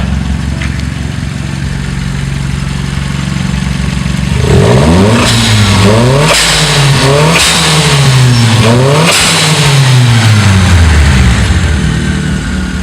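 A 660cc kei car fitted with a motorcycle sport exhaust idles, then is revved repeatedly in several sharp rising and falling bursts, loud and close, before dropping back to a steady idle.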